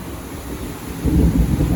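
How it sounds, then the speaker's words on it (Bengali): Morning rain pours steadily with a broad hissing wash, joined midway by a deep rumbling swell like distant thunder or gusting wind. "দেখেন কি সুন্দর বৃষ্টি হইতেছে"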